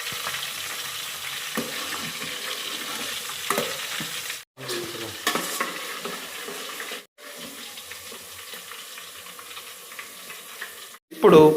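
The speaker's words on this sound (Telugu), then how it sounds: "ఫస్ట్ అయితే మటన్ కర్రీ కలుపుకోవాలి." Mutton curry stirred in a frying pan, a steady sizzling scrape with a few brief pauses and a sharper clatter at the end, with running tap water in the background. No one speaks.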